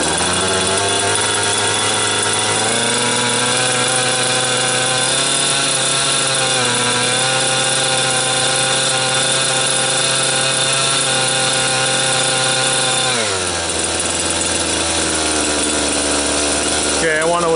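A gas-powered Trex 600 RC helicopter engine drones steadily at close range, its whine shifting up as the throttle is raised, then dropping sharply near the end before settling at a lower pitch.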